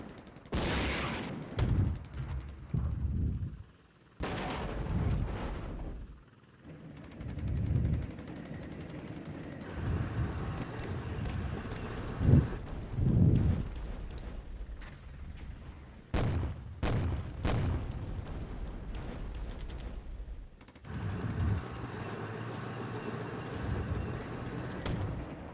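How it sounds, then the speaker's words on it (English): Tank battle in a WWII strategy video game, with repeated heavy cannon shots and booming artillery bursts over a steady rumble of armored fire, some blasts loud and close, others in quick clustered volleys. "Tanks are engaging."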